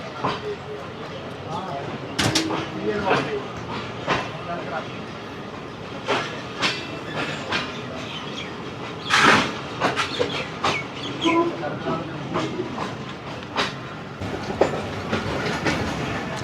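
Steady rumble of the Sialkot Express passenger train departing Pasrur station in Pakistan, with rhythmic clacking of wheels over rail joints and occasional sharper knocks; some faint voices in the background.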